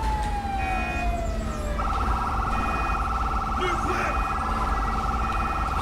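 Police car siren in GTA V with the LSPDFR mod, a loud steady electronic wail that shifts into a rapid pulsing yelp partway through, sounding close and continuous with game noise underneath.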